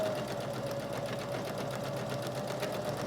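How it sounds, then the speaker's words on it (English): Sewing machine running steadily while stitching fabric for a lanyard, a close, continuous rapid mechanical whir and needle chatter with no pauses. "I always like to start with my needle down so that my fabric is already grabbed when I start stitching"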